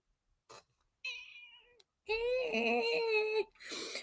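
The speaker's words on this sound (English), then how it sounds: "She didn't have a meow when she was a baby." A cat gives a few short, soft meows, then one long, loud, drawn-out meow up close, followed by a brief voice.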